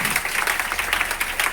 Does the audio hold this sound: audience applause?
yes